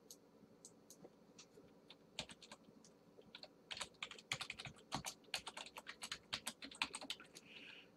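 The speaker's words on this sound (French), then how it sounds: "Et je vais aller écrire ici, Pierre Conley." Keys on a computer keyboard tap faintly and unevenly, sparse at first and then a denser run of quick clicks, heard close in a quiet room.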